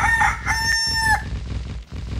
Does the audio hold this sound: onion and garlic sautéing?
no